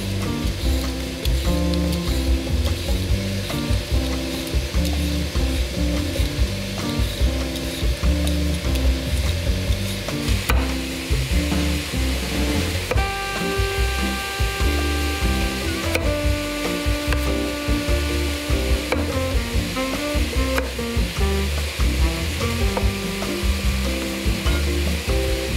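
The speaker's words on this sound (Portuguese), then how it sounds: "Aí joguei essa carne aqui, que é paleta bovina. Vou dar uma refogada nela" Beef shoulder sautéing in hot oil with garlic and onion, a steady dense sizzle and crackle running continuously and close, with faint kitchen clatter and tonal background sounds layered underneath.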